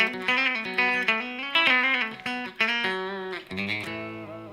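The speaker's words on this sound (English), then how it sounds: "So single coil tones, very nice," A Harley Benton electric guitar on single-coil pickups plays a run of plucked notes and chords, bright and snappy, loud and upfront with no talking.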